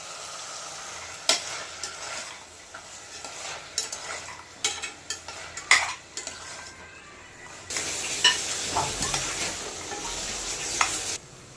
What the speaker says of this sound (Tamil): இது கூட ஊற வச்சுருக்க வேர்க்கடலை பட்டாணி சேர்த்துக்கிறேன்